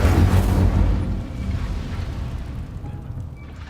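A fire spell is cast in a Harry Potter wizarding video game: a loud rumbling whoosh of flame bursts out at once and then settles into a lower, steady roar that slowly fades.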